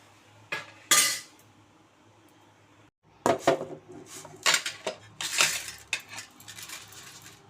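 Roasted Bambino vermicelli scraped from a pan onto a plate, with clanking spoon-on-metal strikes and clinks near and fairly loud, coming in irregular bursts around a brief silent gap.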